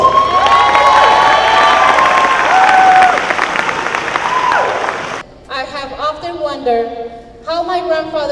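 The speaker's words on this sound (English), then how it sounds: "Can we give her a round of applause?" Applause mixed with cheers and shouts from the audience at a community gubernatorial forum, loud for about five seconds, then cutting off as a voice begins speaking.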